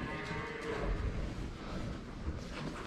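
Cattle mooing inside a shed: low, drawn-out lowing calls that overlap and recur across a few seconds, fairly close over a steady indoor background hum.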